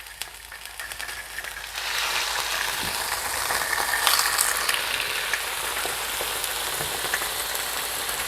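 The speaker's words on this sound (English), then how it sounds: "you wanted it to be hot enough that you get that nice sizzle" Salmon sizzles steadily in a hot oiled pan, a dense crackling hiss that swells slightly after the first couple of seconds.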